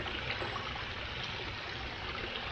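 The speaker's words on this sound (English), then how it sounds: "Here's a better shot of the main waterfall." A koi pond's main waterfall trickles and splashes in a steady, soft, continuous wash of falling water, heard alone without voices.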